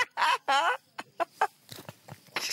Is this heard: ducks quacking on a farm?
yes